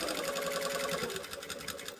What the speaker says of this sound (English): Now, I'm just going to sew straight up.